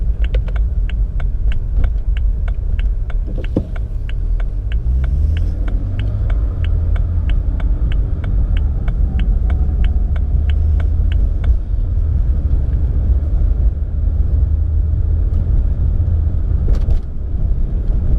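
Steady low engine rumble and road noise inside a BMW 335i E90 with an automatic transmission cruising in normal drive, loud and continuous with a faint regular ticking, no talk.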